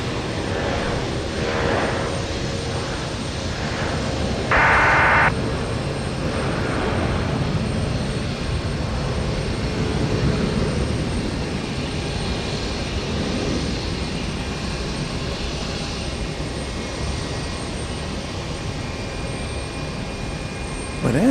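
Jet airliner taking off at Houston Intercontinental airport on a hazy morning, a sustained loud engine roar that rises slightly then slowly eases as it draws away, with no talk.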